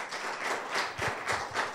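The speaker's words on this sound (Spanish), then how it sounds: "un aplauso y gracias por estar aquí" Applause from a small seated audience, a steady patter of many hands clapping at moderate distance, fairly soft and continuous with no voices over it.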